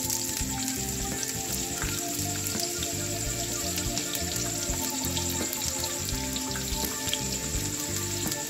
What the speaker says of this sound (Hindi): ऑयल गर्म हो गए, अब इसमें दो दरमियाने साइज के प्याज मैंने लिए थे, बड़ी बड़ी काट ली, वो इसमें ऐड कर।